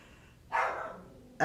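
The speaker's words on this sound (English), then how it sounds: "Little Willie, the Yorkshire Terrier, the Yorkie, he's barking" A Yorkshire Terrier barks indoors, one sharp bark followed by the start of a second, fairly loud and close.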